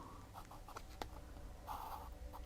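A pencil lightly marking a cut line on paper for a mini album, giving soft, faint scratchy strokes in quick irregular bursts with one sharp tap, close to the mic and alone.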